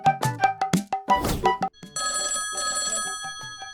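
A telephone rings loudly in a domestic setting, a rapid electronic bell trill in two bursts after some brief clattering sounds at the start, with no talking over it.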